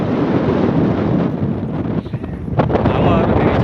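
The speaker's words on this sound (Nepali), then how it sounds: "हावाहरु धेरै चलिरहेको छ" Strong wind roars steadily against the microphone at a seashore in Surat, Gujarat, a dense rumbling gust that swells slightly toward the end, with a voice speaking briefly.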